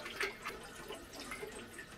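Water drains out of a home well pressure tank, a faint, quiet trickle with scattered soft drips and gurgles.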